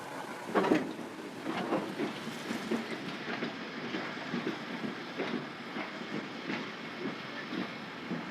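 A train rolling through Calais-Ville station in France with rhythmic wheel clatter and a faint hiss, fairly quiet and distant, no talking.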